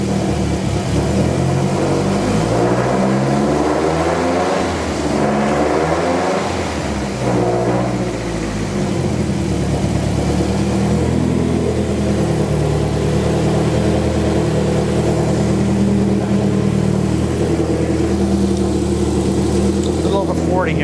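A BMW 2002 Turbo engine warms up close by, revving in a few rising and falling sweeps before settling into a steady, busy idle, with people talking over it.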